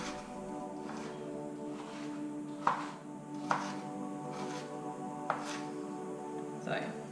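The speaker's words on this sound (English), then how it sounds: "so I'm gonna cut up some more because I like onion" A knife chops onion on a cutting board in a home kitchen, several sharp, spaced thuds heard faintly against a steady background hum.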